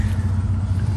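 Toyota 80 series hung up on a big log off-road, its engine droning steadily with a low rumble as the wheels spin without grip, close and loud, no talking.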